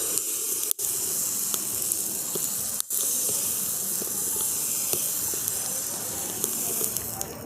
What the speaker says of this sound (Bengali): এই ময়দার ব্যাটারটা এক হাতা করে নিয়ে আমি তাওয়ার মধ্যে দিয়ে দেবো